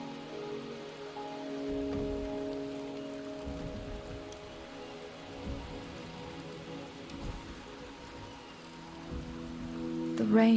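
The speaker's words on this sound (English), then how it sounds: "The rain is subsiding, and the sky will soon clear." Steady rain falling on surfaces during a Wuthering Waves game cutscene, a continuous even patter with low rumbling swells beneath, no voices over it.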